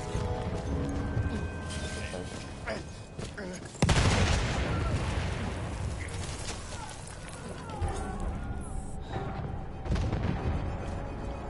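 Machine gun fire in the Battlefield 1 video game sounds as loud, dense bursts within a busy battlefield din, with a sharp blast near the start and voices talking over the noise.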